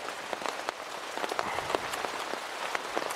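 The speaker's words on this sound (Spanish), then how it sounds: "Ahí fuera llueve y hace frío." Rain falling outside in a tropical jungle on a cold early morning, a dense steady patter with scattered sharper drops striking nearby surfaces, no voices.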